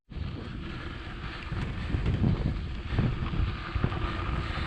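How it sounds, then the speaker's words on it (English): Steady, loud wind roar buffets the microphone while cycling with a strong tailwind on country roads, swelling slightly in gusts and drowning out other sounds, with no speech. "Got a cracking tailwind right now."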